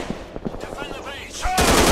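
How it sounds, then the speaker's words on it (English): Heavy gunfire in a shooter video game: rapid, irregular shots that swell into a dense continuous burst at the end, with game voices mixed in. "I'm under heavy fire."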